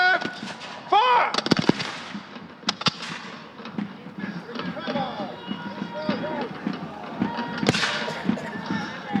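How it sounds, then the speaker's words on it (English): A volley of musket fire at an English Civil War battle reenactment rings out as sharp, cracking bangs scattered over several seconds, with shouted commands and crowd noise mixed in throughout. "Prepare to give fire."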